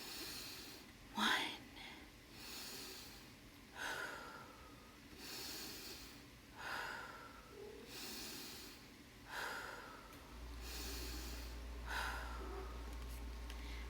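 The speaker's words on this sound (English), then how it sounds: "So let's practice 5-finger breathing." A child-friendly five-finger breathing exercise brings slow, deep breaths in and out, repeated about five times at a steady rhythm, close and soft, with a low hum rising near the end.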